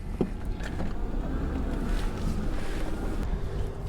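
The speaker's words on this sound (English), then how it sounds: "it's nice and windy today" Steady wind buffeting a microphone outdoors, a constant low rumble with gusty swells and no voices.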